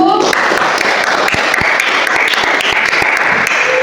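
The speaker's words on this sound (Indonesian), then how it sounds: "Tepuk tangan untuk kelompok 1" A room full of people claps steadily and loudly for a group at a teacher training session, dense applause continuing throughout with a few sharper individual claps standing out.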